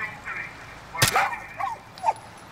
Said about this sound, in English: But I can't have you barking.